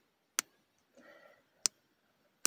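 Three sharp, crisp plastic clicks from the joints of a WWE Mattel Knuckle Crunchers action figure, spaced apart, with a soft rustle of handling in between; close and fairly quiet.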